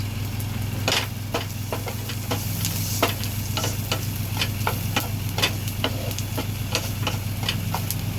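Onions fry in a pan with small green cardamom pods, giving a soft, continuous sizzle dotted with sharp crackles and pops at irregular intervals over a low steady hum.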